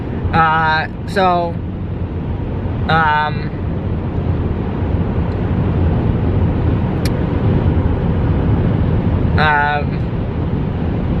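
A steady, loud road rumble and broadband wind noise fill the cabin of a car driving along a highway between Wyoming and Utah, with someone talking intermittently over the constant drone.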